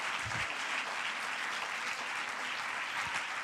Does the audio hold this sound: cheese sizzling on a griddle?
no